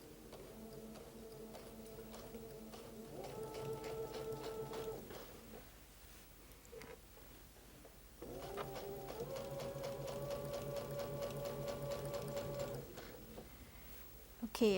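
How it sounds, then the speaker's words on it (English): A sewing machine stitches quilt fabric along a fold in two bursts of steady, rapid mechanical whirring with a pause between them, close and quiet, with no one talking. "Now we're ready to sew, and now I want to sew right along the edge of that fold"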